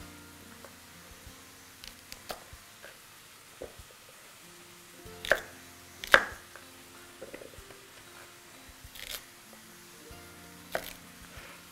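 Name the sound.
knife chopping baby carrots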